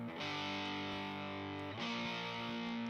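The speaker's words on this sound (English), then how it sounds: "Just regular old, like distortion, like nothing fancy" A distorted electric guitar played straight through an amp holds a thick, sustained chord, then shifts to a new chord partway through, ringing loud and close with plain overdrive.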